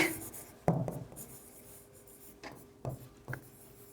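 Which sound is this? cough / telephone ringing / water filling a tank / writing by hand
writing by hand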